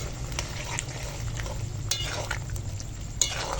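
A spoon stirs ground cashew and poppy seed paste into a simmering curry, giving soft wet scrapes and faint sizzling against the pan, close and steady with an occasional light clink.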